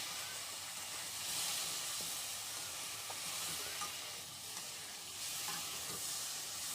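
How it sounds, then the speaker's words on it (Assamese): Masala with a little cumin powder, chillies, onion and potato sizzles steadily in a pan while being stirred, a continuous hissing fry with faint scrapes and clicks, no voices. "এতিয়া মই ভালকৈ মছলাখিনি ভাজি ল'ম।"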